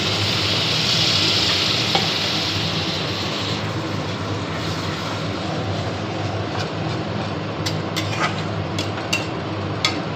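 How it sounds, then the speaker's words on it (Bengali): Spice masala sizzles steadily in hot oil in a pan as it is stirred for a chickpea curry. A close, continuous frying hiss carries throughout, with a few sharp spoon scrapes and clicks near the end. "মশলাটা একটু ভাজা ভাজা হয়ে এসছে, একটু সামান্য জল দেব,"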